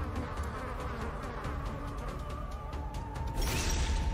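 Buzzing mosquito in a video game, a steady insect drone holding close and loud throughout and swelling briefly near the end, with no talk over it.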